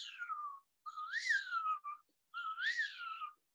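A voice imitates a wigeon's whistling call: three clear, drawn-out whistles, the first falling, the next two rising then falling, with short pauses between.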